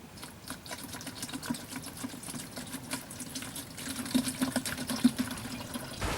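Water trickles steadily through a homemade sand and charcoal filter packed in a cut-off plastic bottle on a deserted island, a continuous close splashing stream that grows slightly louder toward the end.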